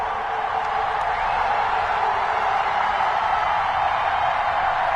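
A stadium crowd cheers in a Madden NFL video game before a Denver Broncos versus Kansas City Chiefs matchup, a dense, steady roar of massed voices at even loudness throughout.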